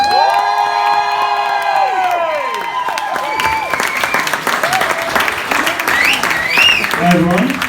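A comedy club audience claps, cheers and whoops for a stand-up comedian taking the stage, loud and dense crowd noise with voices shouting through it and a sliding tonal sound fading out early.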